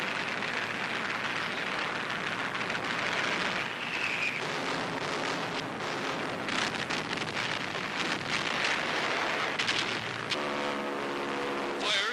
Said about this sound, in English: parachute flares light up the target amid a hail of anti-aircraft fire